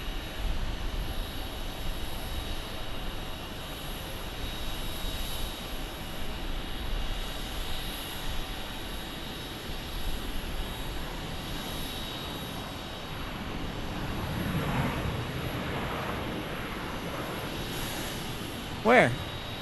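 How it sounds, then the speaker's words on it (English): CRJ 700 jet engines at Phoenix Sky Harbor airport on runway 26, a distant, steady broadband roar lasting throughout, faint under outdoor ambience. "CRJ 700 hanging out with us here on runway 26."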